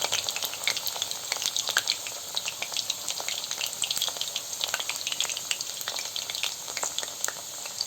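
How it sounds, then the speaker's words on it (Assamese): Potatoes sizzle in oil in a pan while being cooked Assamese style, giving a moderate, continuous frying hiss scattered with sharp crackles and spatters. "এতিয়া আমি আলুখিনি ভাজি ল'ম অলপমান"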